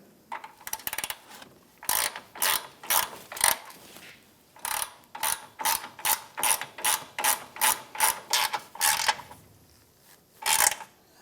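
A hand ratchet threads a bolt into the captured nut of a transmission mount on a 2007-2013 Acura MDX, a close series of sharp clicking bursts in a quick steady rhythm with short pauses between strokes.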